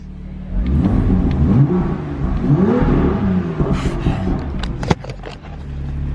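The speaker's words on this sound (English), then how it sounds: "You know that thrum noise that the M2 makes?" A BMW M2 engine thrums and revs up and down repeatedly, loud and close, with a deep, rising and falling drone and a few sharp mechanical clicks near the end.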